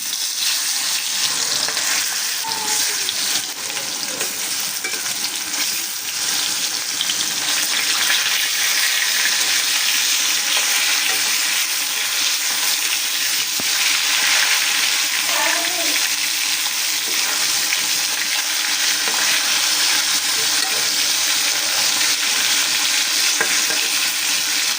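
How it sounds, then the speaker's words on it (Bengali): Marinated fish fries in hot oil in a home kitchen while rice cooks nearby, making a loud, unbroken hissing sizzle for the whole stretch with faint crackles and an occasional light clink. "মাছ ভাজবো।"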